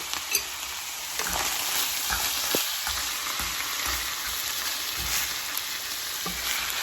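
Meat and tomato sauce being stirred in a pot, with a steady bubbling sizzle and occasional soft scraping knocks of the spoon against the pot, close and fairly quiet, no voices.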